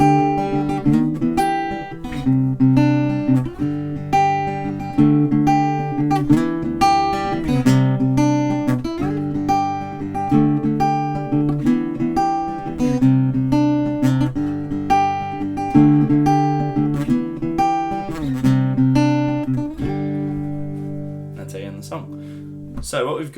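Guitar playing the outro of a song: steady strummed chords in an even rhythm, loud and close, ending on a held, ringing chord.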